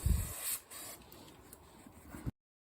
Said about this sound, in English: Just give them a bit of a squirt with carb cleaner, see if it eats a bit of stuff off.